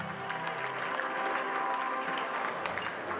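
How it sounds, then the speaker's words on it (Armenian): Wedding guests applaud in a fairly faint, steady patter of many hands that keeps going without pause, heard from some distance in a reverberant hall. "Բրավո, ծափերը։"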